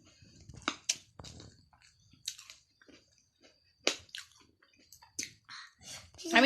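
Close, wet chewing of a very large guava, in irregular bursts of smacking and crunching with short pauses between them and no talk.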